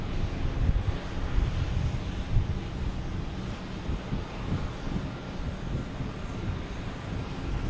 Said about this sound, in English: It's just a prop plane.